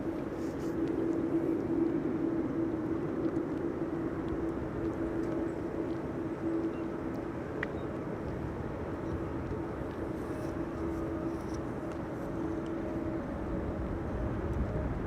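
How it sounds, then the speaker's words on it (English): A KLM Airbus A321neo arriving at Amsterdam Schiphol during a storm, heard as a steady distant jet rumble mixed with wind noise, continuous and fairly faint. "next up should be KLM flight 1600, an A321neo arriving from Rome"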